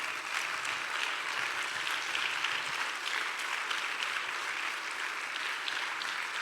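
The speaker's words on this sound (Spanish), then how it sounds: "Denle un aplauso fuerte a Dios, Señor." A church congregation applauds during a sermon, a sustained, even wash of clapping at moderate loudness with no talk over it.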